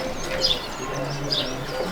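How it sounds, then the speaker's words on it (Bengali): Pigeons in a loft in Malda district give soft coos and brief chirps over a low, murmuring background. The calls are moderately close and spaced out. "এটা হচ্ছে মাদি পায়রা, আর ওটা হচ্ছে নর পায়রা"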